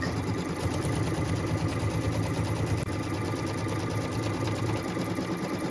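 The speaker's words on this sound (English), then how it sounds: "we return the hoop to the machine, and what we're stitching now is the piecing template" Computerized embroidery machine stitching a piecing template onto a quilt block, a steady fast mechanical whir with rapid needle rhythm, continuous and close throughout.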